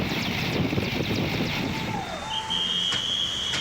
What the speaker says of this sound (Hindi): बालटाल से हर घंटे तकरीबन 10 हेलीकॉप्टर उड़ान भर रहे हैं।